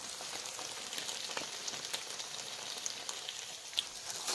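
Polish sausage and rice sizzle steadily in a pan on the stove, a close, continuous crackling fry with small pops and no voices.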